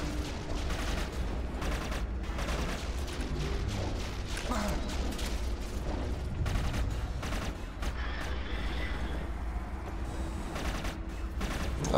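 Rapid bursts of gunfire and rocket launches crackle through a dense, busy battle in the video game Inversion, continuous and loud with no pauses.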